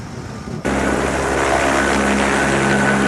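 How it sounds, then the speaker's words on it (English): Helicopter approaching a loading bay: a loud, steady roar of rotor and engine noise bursts in suddenly and holds at full strength, close by, with no voices. "Prepare for incoming chopper. Loading bay 2."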